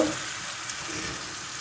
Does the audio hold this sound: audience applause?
no